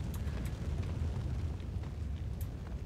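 Fire roaring in Max Payne 2, a dense, low rumbling blaze with occasional crackles and pops, steady and close throughout.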